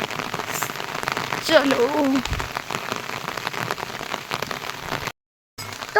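Steady rain pattering on surfaces in a foggy hill village, continuous throughout with a brief silent gap near the end, while a voice speaks briefly over it.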